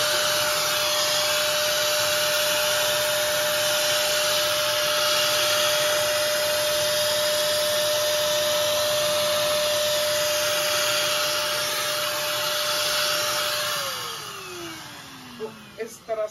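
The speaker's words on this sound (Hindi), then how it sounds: "ये थोड़ी सी डस्ट है तो हमने इसलिए साफ नहीं किया था ताकि वैक्यूम क्लीनर से दिखा पाएं आपको।" A Forbes Eureka vacuum cleaner runs with a loud, steady whine and a constant airflow roar, then its motor pitch falls as it winds down near the end, followed by a few clicks.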